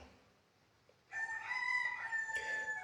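A rooster crows once, loud and close, with a strained, rising cock-a-doodle-doo after a second of near silence.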